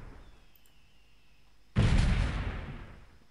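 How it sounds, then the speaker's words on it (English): A grenade explosion in the video game Delta Force, a sudden loud blast after a quiet stretch, followed by a rumbling decay that fades over a second or so, with no talk. "I suppose since that does not work, I'll just toss in a grenade."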